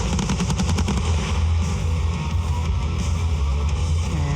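Rapid bursts of automatic gunfire from a Hollywood prop weapon, loud and close, with a dense rattling rhythm that blurs into a continuous roar over low rumble.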